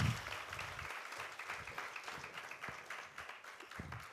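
Audience applause for two honoured war widows at a felicitation ceremony, a steady dense patter of many hands clapping throughout, moderately distant and unbroken.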